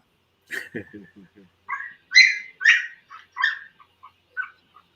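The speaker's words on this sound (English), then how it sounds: "That might be one of my puppies, I think." A puppy gives a short run of high yips and small barks, close and fairly clear, with a few quick whimpering notes at the start and no talk over it.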